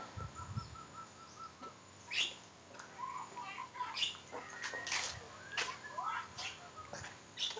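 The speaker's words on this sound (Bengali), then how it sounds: "পাখি আর পাখি, ঘুঘু পাখি, সব ঘুঘু পাখি।" Malaysian doves and other birds in an aviary give faint, scattered chirps and brief wing flutters at a distance, quiet and intermittent.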